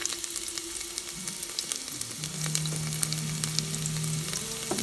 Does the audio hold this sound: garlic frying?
yes